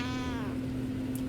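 A cat gives a short drawn-out meow after being lifted off an electric blanket, fairly faint against a steady electrical hum, then quiet background.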